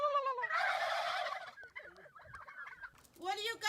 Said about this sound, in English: Those turkeys are fighting.